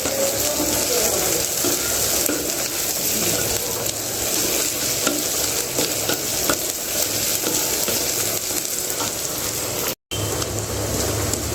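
Ginger garlic paste frying in a pan for chicken curry, a loud continuous sizzle with scraping stir strokes throughout, close up, with a brief gap near the end.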